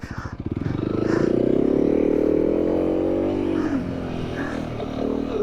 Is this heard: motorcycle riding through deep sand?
yes